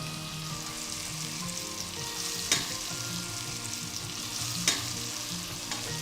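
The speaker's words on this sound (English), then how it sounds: "put this heat a little bit low, then add 2 cloves of garlic inside it" Garlic cloves frying in a pan over low heat give a steady, close sizzle throughout, with a couple of sharp clinks of a utensil against the pan.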